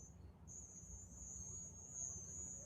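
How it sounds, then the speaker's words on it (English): Crickets chirping inside a house, a continuous thin high trill that holds steady over a faint low hum, quiet and alone. "Oh, I have crickets. They're here all the time."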